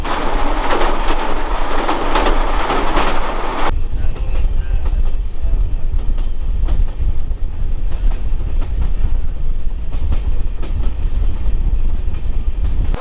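A passenger train leaving Cuttack station in Odisha, heard from on board as a loud, continuous rumble with rhythmic clickety-clack of wheels over rail joints, its tone shifting partway through.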